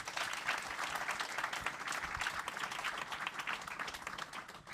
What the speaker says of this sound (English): Maybe a big round of applause